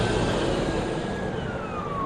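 Police and ambulance sirens approach the scene of a bomb blast near Turkey's parliament and air force headquarters in Ankara, a steady wailing tone sliding slowly downward over continuous broadband traffic rumble, moderately loud and without talk.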